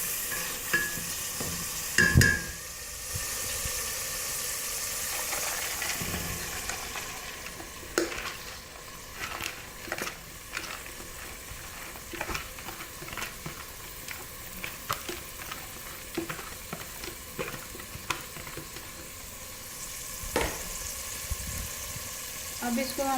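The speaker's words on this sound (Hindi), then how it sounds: "अब इसको हम तेज़ आंच पर भूनेंगे।" Mash dal fries in spiced masala over high heat, a continuous sizzle punctuated by repeated scraping strokes of a spoon against the pan, with a few louder clanks along the way.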